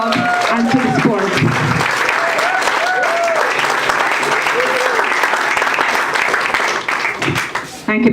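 A club gathering at a hockey cup launch breaks into sustained applause, dense and loud throughout, with whoops and voices calling out over it and a quick tail-off at the end.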